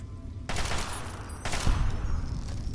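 Gunfire in Fallout 3 during a slow-motion shot: two close, loud bursts of shots about a second apart, each trailing into a rattling echo.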